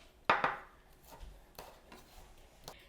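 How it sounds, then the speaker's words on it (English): A knife cutting green chili into thin rings on a board, one sharp opening chop followed by several softer, irregular taps and cuts, close and unaccompanied by talk. "I'm just going to cut the green chili into little thin rings."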